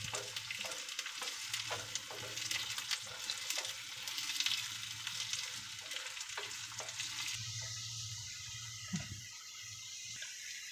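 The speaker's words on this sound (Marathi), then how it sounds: "लसूण असे लाल होईपर्यंत फ्राय करून घ्यायचे तेलामध्ये चांगले." Garlic fries in oil until red, giving a continuous, fairly quiet sizzle with scraping stirs throughout.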